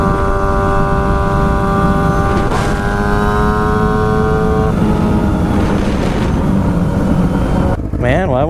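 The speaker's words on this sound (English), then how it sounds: "I just got on these bikes and went" A budget motorcycle being ridden, its engine holding a steady loud drone with shifting harmonic tones through most of the stretch, then dropping and changing near the end.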